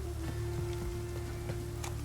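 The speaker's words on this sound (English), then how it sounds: "Looks like rain." Steady rain in The Witcher 3 video game, a continuous even patter with a low hum beneath it and no voices.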